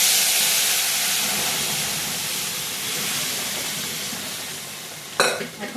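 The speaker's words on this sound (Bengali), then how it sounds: "এবার আমি ডালটা এর মধ্যে ঢেলে দেবো।" Lentils go into hot, sizzling tempering in a home kitchen: a steady loud frying hiss fills the pan, then a sudden brief splash-burst near the end as the dal lands.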